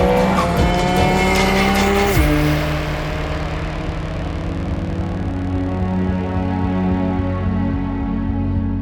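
Porsche Group C race car driven hard around the Top Gear test track, its engine roaring loud and close with a sharp gear change, then a sustained high-revving drone and tire squeal.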